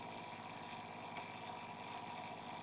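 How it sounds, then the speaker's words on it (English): A Lauda MT recirculating head on a 6-liter water bath runs with a steady, faint mechanical hum and a light continuous rattle from vibration, close and unaccompanied by talk. "That little rattling sound is just vibration."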